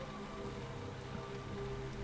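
Steady rain falls in The Lion's Song, a continuous even wash of drops spattering on a surface, with no voices over it.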